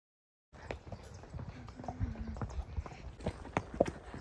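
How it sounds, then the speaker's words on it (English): A horse walking along a trail, hooves clip-clopping in a steady, uneven rhythm, fairly near and moderately quiet, with a faint low hum partway through. "I just got on my horse."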